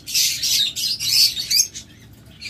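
Red-eyed lovebirds in a cage give rapid, high-pitched chirps and tweets in short overlapping bursts, close by, with no talking.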